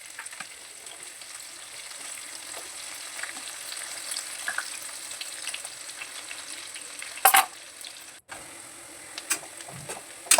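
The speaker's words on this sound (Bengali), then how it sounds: "এখন পেঁয়াজটা একটু ভাজা ভাজা হয়ে এসছে" Chopped onions sizzle steadily in hot oil in a pan while palak chicken is being cooked, a continuous close hiss broken by a few sharp scrapes and clanks of stirring near the end.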